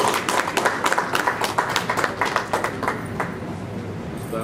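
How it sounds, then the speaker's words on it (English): An audience claps for a speaker at a formal commissioners' meeting, giving a brisk, dense round of applause that thins out and tapers off toward the end. "Please let us give him another round of applause."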